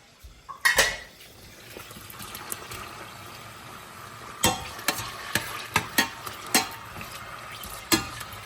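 Onions are tossed into a pan for prawn biryani and sizzle quietly underneath. Sharp metallic clinks and scrapes of a spoon against the pan come several times, close by, with no talking.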